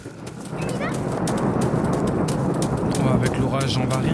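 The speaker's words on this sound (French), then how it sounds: "avec l'orage, on va rien entendre" A rainy thunderstorm swells in the game A Blind Legend, with dense steady rain rising from quiet to a loud, constant wash and low rumbling underneath, while someone talks over it.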